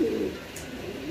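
A pigeon held in hand gives a short low coo, close and fairly soft, followed by a faint rustle and quieter cooing.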